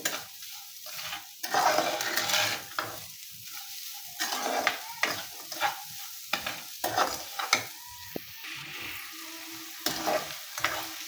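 Grated coconut and sugar are stirred in a pan over a gentle sizzle. A utensil scrapes and taps against the metal in uneven bursts with short pauses between them, close and moderately loud.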